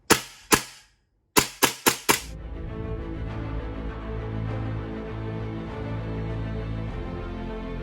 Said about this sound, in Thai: ลองยิงครับ